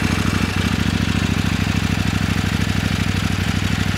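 A KOVE 800 Adventure motorcycle engine idles close by, a loud, steady, rapid pulsing beat with a slightly rough, uneven character, continuous and alone.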